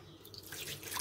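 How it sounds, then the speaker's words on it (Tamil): A little water is poured into a bowl of salted mixture being hand-mixed for a no-cook dish, a soft, close trickle and drip that builds steadily over a second. "இப்படியே கலக்கிட்டு கொஞ்சமாக தண்ணி விடுங்க, நிறையா விடக்கூடாது."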